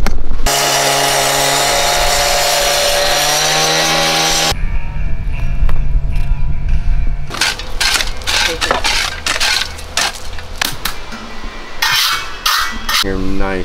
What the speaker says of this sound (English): I'll just take the blower too